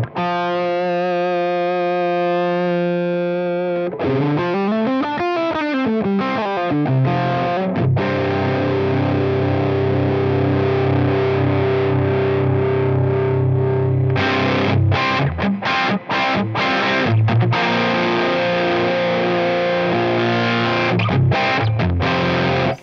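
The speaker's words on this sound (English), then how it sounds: "that's such a big full distortion sound, unlike almost any drive pedals that I can think of" Electric guitar through a Rat distortion pedal, heavily distorted, playing sustained chords and bending notes, thick and loud, with a brief sliding passage and choppy strums toward the end.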